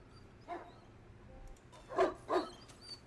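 Dogs barking from a movie played back on screen, a single bark followed by two louder barks in quick succession over a low background hum.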